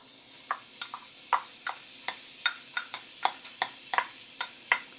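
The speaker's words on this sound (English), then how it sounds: "We are going to saute our onions till translucent." Chopped onions sautéing in melted butter in a pan, heard as a quiet background sizzle broken by a series of sharp, irregular pops and clicks, with no one talking.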